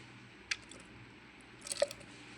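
Tomatoes are dropped into a pot of soaked dal, giving two soft, wet squishy plops close by in an otherwise quiet kitchen.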